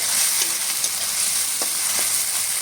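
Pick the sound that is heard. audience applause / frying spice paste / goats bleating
frying spice paste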